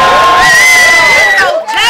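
Loud crowd at a rap battle league event roaring and cheering continuously, with whoops and shouts rising over the din, briefly dipping near the end before swelling again.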